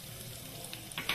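Garlic and ground spices sizzle in a hot pan for palak paneer, a steady close frying hiss with a few louder spits and crackles near the end.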